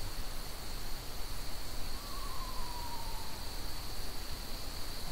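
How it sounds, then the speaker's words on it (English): An owl gives a single faint hoot far off, lasting about a second and a half, over steady hiss and a thin high whine. "Okay, so that's that owl or something, right?"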